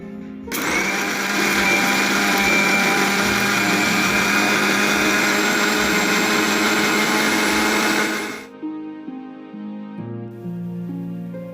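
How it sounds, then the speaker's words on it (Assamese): A mixer grinder whirs loudly and steadily as it blends sugar and curd into Punjabi lassi, running for about eight seconds before winding down into quieter background sound. "তাৰপিছত গোটেইখিনি মিক্সাৰ গ্ৰাইণ্ডাৰত মিক্স কৰি ল'ম।"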